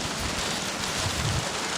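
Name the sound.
rain falling during a storm at night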